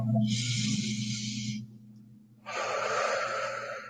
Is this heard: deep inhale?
yes